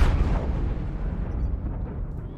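Heavy rumbling explosions from missile salvos in the mech combat game MechWarrior Online, a dense continuous barrage of low booms that rolls on loudly through the whole stretch before easing off slightly, with no talking.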